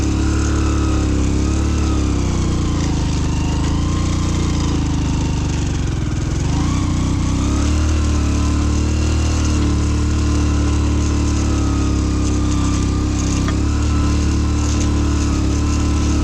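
A vehicle engine drones loud and steady as it drives a mountain road in the Zanskar Valley of Ladakh, its rough, constant hum dipping briefly near the middle as it strains.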